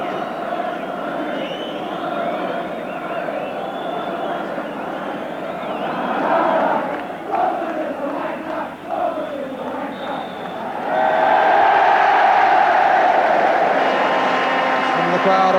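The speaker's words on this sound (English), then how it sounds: "Crowd applaud a very satisfactory opening performance by Tottenham" Football crowd at Tottenham against Nottingham Forest applauding and cheering a satisfactory opening performance, a broad roar with commentary voice over it, swelling louder near the end.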